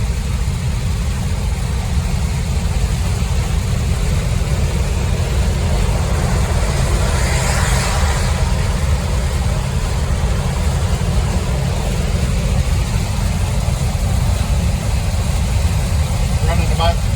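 A Chevrolet Corvair cruises at about 53 to 55 miles an hour with a steady low engine drone and road rumble heard from inside the car, constant and fairly loud, while someone speaks over it.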